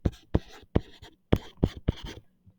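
Handwriting for a linear study guide review produces several quick, sharp scratchy pen strokes in short bursts, close and fairly quiet, with no talking.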